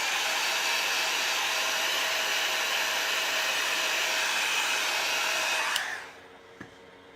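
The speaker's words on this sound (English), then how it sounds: "let's blow dry that" A hair dryer blows steadily on wet paint, a loud close whoosh with a faint whine that runs for several seconds before clicking off and fading, then a small knock.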